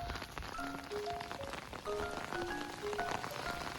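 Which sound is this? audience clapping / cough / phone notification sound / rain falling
rain falling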